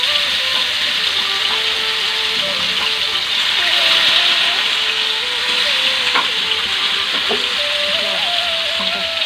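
Marinated chicken for a homemade grilled chicken dish sizzles steadily in a pan on a stovetop, a constant broad hiss with a faint voice murmuring in the background.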